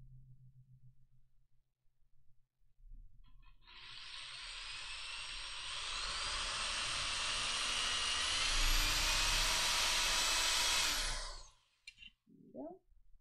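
A high-pitched power tool whirs up, runs steadily for several seconds with a rising whine, then cuts off; faint voices around it.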